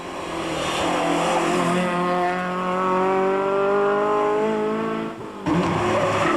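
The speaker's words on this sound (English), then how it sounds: "There were 5 Lotus Cortinas in the rally, making them virtually a class of their own." Lotus Cortina rally cars racing on a tarmac rally stage, one engine revving hard through rising and falling gears, loud and close, cutting off near the end before another engine roars back in.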